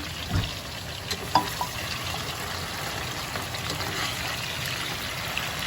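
Halved, sliced potatoes frying in a skillet give a steady close sizzle and crackle, with a few brief clatters near the start as they are flipped over.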